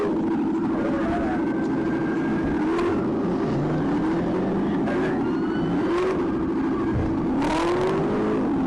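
Car doing donuts, its engine revving and droning continuously with rising and falling whines under steady loud background noise, heard at a moderate distance.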